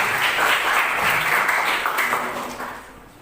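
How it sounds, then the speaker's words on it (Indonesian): A school class claps hands together, a brisk burst of applause that fades toward the end. "tepuk tangan buat kita semua"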